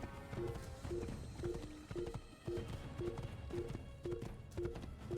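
Horse hooves clip-clop in a steady galloping rhythm while riding in the Assassin's Creed video game, regular paired hoofbeats repeating about twice a second at a soft, even level over faint game ambience.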